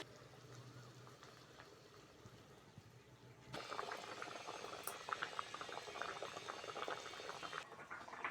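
Eggplant and egg curry with spiced gravy bubbling and boiling in a pan, a soft simmer that swells into a louder, steady boil with dense popping bubbles after a few seconds, close and without talk.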